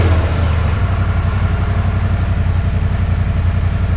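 A Polaris Pro XP side-by-side engine starts and settles into a steady, close idle, a continuous low rumble throughout with no talk.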